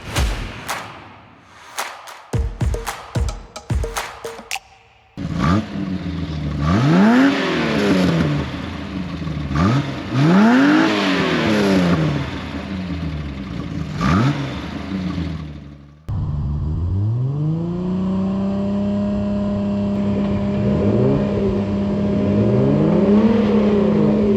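A car exhaust under a noise test, opening with a few quick sharp throttle blips, then several loud sweeping revs that rise and fall, and ending on a long steady high-rpm hold, close and loud with no talk.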